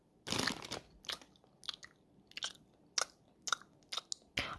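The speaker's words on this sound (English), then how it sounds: "Are you already chewing on the Sour Patch?" Sour Patch candy is chewed close to the mic. About a dozen short, crisp crunching bites come in an uneven rhythm with quiet pauses between them, and no talk.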